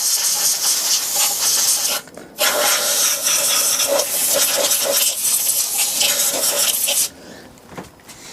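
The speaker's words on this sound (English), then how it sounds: "And then use the air blower." Compressed air blown from an air blower nozzle onto the threads of a Mercury Mark 10 outboard fuel pump part, a loud steady hiss in two long bursts with a brief pause, fading to quieter hiss at the end.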